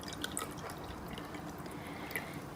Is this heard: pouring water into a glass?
yes